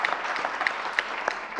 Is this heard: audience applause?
yes